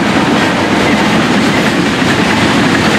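FEC freight train rolling past on the railway, a steady loud rumble with clickety-clack of wheels over the rails throughout, close by and continuous with no talking.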